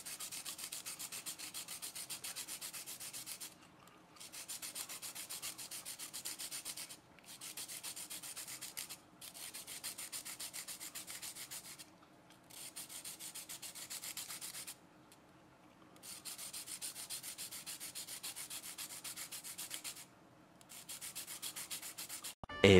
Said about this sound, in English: you just kind of slide it on the sandpaper there as you're turning it to give it a tip